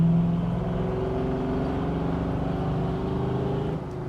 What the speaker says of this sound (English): The exhaust is really nice on this truck because it's got a good note to it, but it's not overly loud.